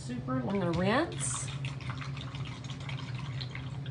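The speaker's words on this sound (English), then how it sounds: "My brush is still dirty with that. Super, I'm gonna rinse." A dirty paintbrush is rinsed in water, with soft swishing and light dripping splashes under a speaking voice, faint and close.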